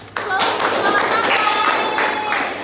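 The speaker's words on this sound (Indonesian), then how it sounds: "Oke, tepuk tangan untuk" A group of classroom students claps together in a quick, fairly loud burst of hand claps that starts sharply and carries on steadily, with a few voices and squeals mixed in.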